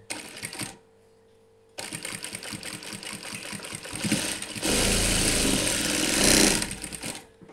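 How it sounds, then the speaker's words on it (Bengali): A sewing machine sewing a tack stitch on a cotton housecoat: a brief run, a pause, then a steady rapid needle rattle that builds into a louder, faster whirring burst before slowing, heard up close. "তুলে এটাকে দিয়ে টাক সেলাই দিয়ে দেবেন।"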